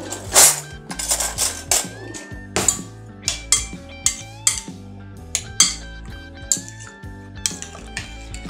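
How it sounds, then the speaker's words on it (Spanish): A utensil briskly stirs eggs, cream and salt in a bowl for a tortilla, giving a steady run of sharp clinks and taps against the side, each one ringing briefly and close. "Ahora vamos a remover"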